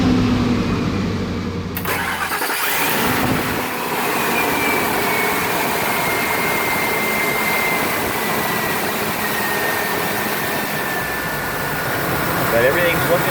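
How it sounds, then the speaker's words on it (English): A freshly rebuilt Ford F-250 truck engine cranks and catches, then settles into a steady, even idle that hums on for several seconds. "that is the smoothest fresh engine startup I've ever seen"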